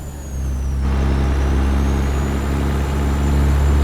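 A CAT 3406B straight-piped diesel truck engine in American Truck Simulator roars loud and steady through acceleration. A deep low rumble holds throughout, and a brief air-brake-like hiss shows near the start.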